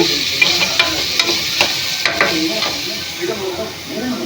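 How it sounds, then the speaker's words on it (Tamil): Sliced onions frying in a pan for vegetable biryani in a village kitchen, giving a steady close sizzle with regular scraping clicks as they are stirred. "வெங்காயம் நல்லா பொன்னிறமாக வதங்கினது"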